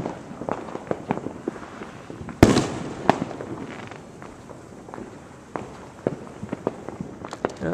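Independence Day fireworks burst above a line of trees outdoors, a steady run of sharp cracks and pops with one big loud boom partway through and scattered smaller bangs around it, no talking.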